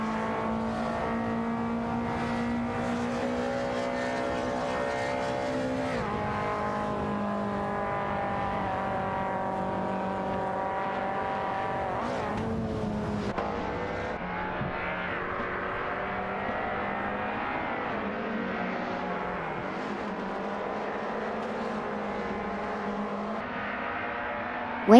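Several race cars in a racing video game battle closely for position, engines droning and shifting in overlapping tones throughout, with steady loud revving, brief dips between gear changes, and no voices.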